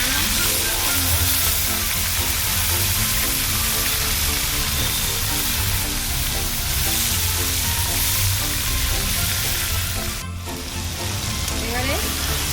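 Packaged ginger-garlic paste fries in a pan for chicken curry cooked outdoors on a rooftop, a loud, dense, continuous sizzle with crackling oil and stirring scrapes, close up with no talking.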